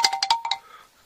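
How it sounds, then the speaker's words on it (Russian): A small riveted, forged metal bell found while hunting scrap metal in winter rings with several quick close strikes, followed by a thin metallic tone that fades out. "Колокольчик."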